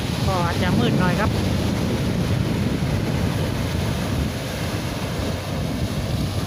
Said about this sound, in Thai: คลื่นแรงครับ